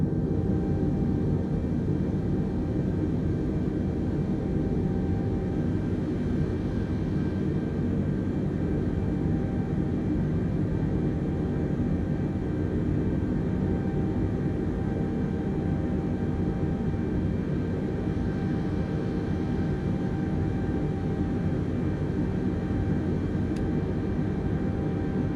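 Airliner jet engines roar steadily through a takeoff roll in Microsoft Flight Simulator, a loud, sustained, even rumble with a faint whine above it, holding constant with no talk.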